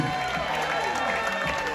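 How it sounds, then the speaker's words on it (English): An audience at a cruise ship love and marriage show on the Carnival Liberty applauds, a dense, continuous wash of clapping from a crowd that fills the whole short moment. "how about another big round of applause?"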